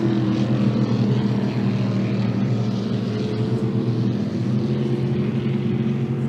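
Racing boat engines at a spring classic boat race roar loudly and continuously, a deep droning hum that stays steady throughout, with no voices.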